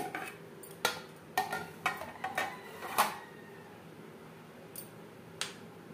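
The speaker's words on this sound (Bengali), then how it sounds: "এবার আমি একটু বড় বড় টুকরো করেই কেটে নেব।" A knife chops peeled papaya into large pieces on a cutting board, sharp crisp taps coming one after another at an uneven pace, then a few sparser cuts.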